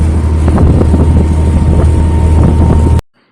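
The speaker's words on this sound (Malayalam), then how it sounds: "നമ്മുടെ ബോട്ട് പുറപ്പെട്ടു." Ferry boat pulling away from Muhamma toward Kumarakom, a loud, close, low engine rumble with wind buffeting that runs steadily for about three seconds and then cuts off abruptly.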